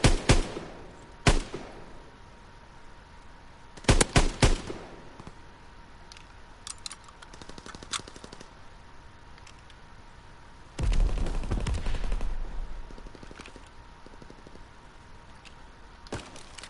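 Gunfire in a PS4 video game: sharp single shots, a quick cluster of rapid bursts, then a longer heavy rattling volley, with quiet stretches between.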